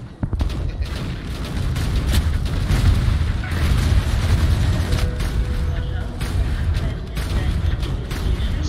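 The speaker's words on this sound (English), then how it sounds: "fire some random shots in there" In the video game Angels Fall First, dense gunfire and booming explosions rumble almost without pause, loud and close, while a player talks over the barrage.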